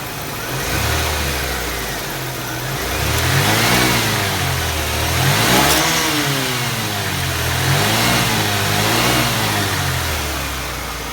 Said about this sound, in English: Really good sounding exhaust.